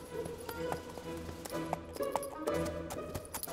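Cartoon horse hooves clip-clopping at a steady walking pace, with light hollow taps under background music and faint voices.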